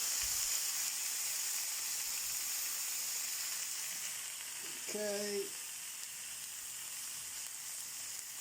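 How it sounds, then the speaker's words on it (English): Vegetables sizzle and hiss steadily on a hot griddle with a splash of water added to steam them, a continuous bright frying crackle, with a brief spoken word partway through. "I'll just put a splash of water in just to really steam it."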